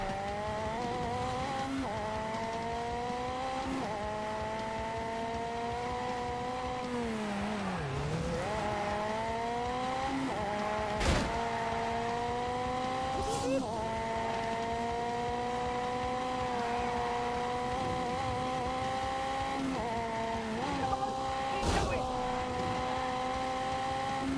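Video game car engine from The Grand Tour racing game, a steady whining drone that rises and falls with gear changes, broken by a few sharp crash thuds as the car hits walls; a voice talks over it.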